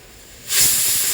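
A pressure cooker on a stove, cooking kodo millet (varagu) sweet pongal, lets out a sudden loud hiss of escaping steam that starts about half a second in and keeps going.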